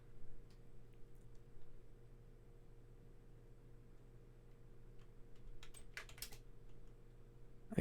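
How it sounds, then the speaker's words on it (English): Faint, quick keystrokes on a computer keyboard tap in irregular bursts over a steady low hum, with a brief cluster of sharper clicks near the end. "I can hear him typing."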